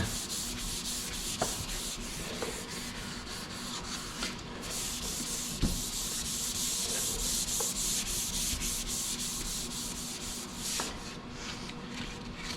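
Steady, continuous rasping of 400 grit sandpaper worked by hand on a sanding block across a Dodge car door panel, a close, even scrubbing texture with faint knocks and no speech.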